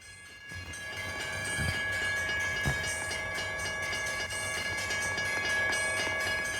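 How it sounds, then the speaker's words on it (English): Video game train approaching a car stuck on the tracks, a steady rumbling roll of rail wagons with faint clacking, continuous and growing slightly under a tonal hum. "Oh no, the train is coming."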